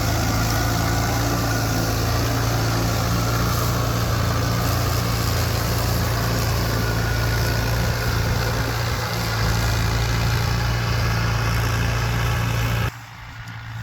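A 1972 Ford F750 heavy truck engine, freshly retimed with valve lash set, idles steadily with a deep low rumble throughout, close and constant, before cutting off abruptly near the end.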